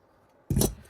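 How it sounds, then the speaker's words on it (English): Scissors snip once through fabric seam notches while sewing a flap pocket into a waist seam, a single short, close cut after a quiet moment. "I'm then going to snip through those notches"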